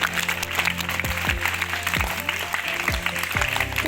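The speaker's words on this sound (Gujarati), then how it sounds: "એકવાર જોરદાર તાળીઓથી વધાવી લઈએ." An audience at a school honour ceremony claps loudly and steadily, mixed with sustained musical tones and a few deep falling thumps recurring about every half second.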